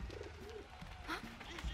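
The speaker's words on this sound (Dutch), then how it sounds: "Ah, lief duifje!" A pigeon coos softly in the Valiant Hearts video game, a few brief throaty calls set against a low background hum.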